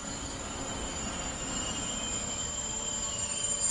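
Freight train running near Bremen-Oldenburg in Train Sim World 5, a steady, dense rumble of wagons rolling over the rails with a faint high squeal of wheels on top, continuous and close.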